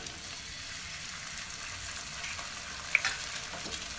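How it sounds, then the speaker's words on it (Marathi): Eggs sizzle and fry in a hot pan for egg bhurji, a steady close crackling hiss with one small sharp tick partway through and no talk. "आता आपण घेऊ पटापट अंडे फोडून देऊ टाकून याच्यात"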